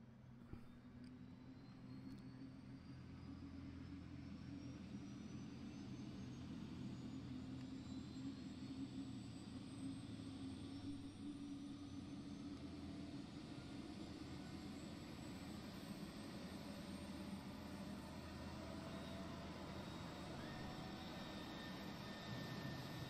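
Simulated F-35B jet engine in Microsoft Flight Simulator spooling up during startup at Marine Corps Air Station Beaufort, a steady rising whine and low rumble held for over twenty seconds, faint and continuous with no talk.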